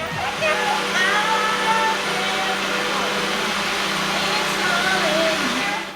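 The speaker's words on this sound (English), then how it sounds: "we're gonna blend it" A blender whirs steadily as it blends a lime drink mix in a kitchen, a loud continuous motor drone lasting throughout while a voice talks over it.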